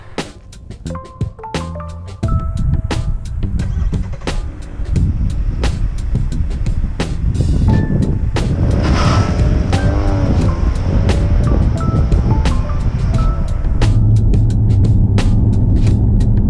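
A 2018 Jeep Compass Limited drives on town pavement, giving a steady, loud rumble of road and engine noise with wind rush throughout, plus a few sharp clicks at the start and faint tonal sounds in the middle.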